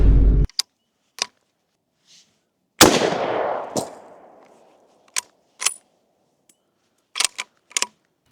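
A single loud, sharp rifle report from an M1903 rifle firing a .30-06 soft point 150 grain big game round, with a long decaying echo, preceded and followed by a few sharp clicks and handling knocks.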